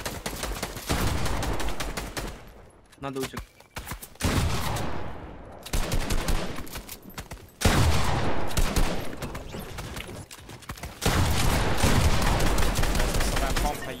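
Gunfire in an arena battle video game, rapid bursts and single shots crackling loudly in clusters with short gaps between, while a player speaks briefly over the shooting.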